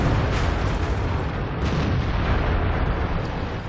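Artillery shells exploding in World of Tanks, the battle around a Bat.-Châtillon 25 t French medium tank: dense continuous rumbling blasts and booms, loud throughout, with a few sharper bursts standing out.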